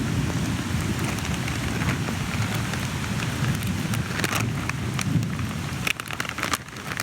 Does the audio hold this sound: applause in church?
no